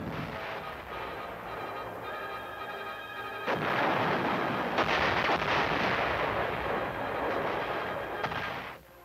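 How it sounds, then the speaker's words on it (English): A 106mm recoilless rifle fires during infantry weapons tests on a range, a heavy blast landing midway that gives way to a long, loud rumbling roar which sustains and fades, with no talk over it. "review the performance of infantry weapons, like the 106mm recoilless rifle, which displays its effectiveness"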